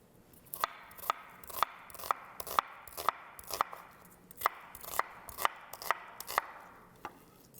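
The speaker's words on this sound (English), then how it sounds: "So I'm just going to chop a little bit of onion for the baking part." A knife chops onion on a cutting board in a brisk, steady run of crisp, evenly spaced strokes, close and clear with no talking.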